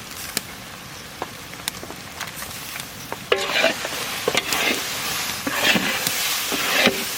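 Dried chilli, turmeric and Kashmiri chilli sizzle as they are stirred into ground spice paste in a pan for a village cooking session, a steady frying hiss broken by scraping strokes of a spoon that grow louder and busier near the end.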